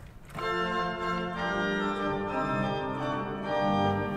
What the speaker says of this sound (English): There's a two-foot octave as well,